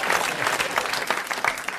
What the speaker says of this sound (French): Merci d'applaudir Erwin.